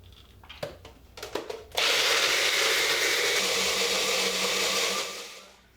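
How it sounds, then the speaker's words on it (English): Several small clicks and knocks come first, as if a blender lid is being tightened, then the blender starts loudly and whirs steadily for about four seconds, blending raw nut cheese with liquid, before winding down. Nobody speaks. "I'm gonna blend this up."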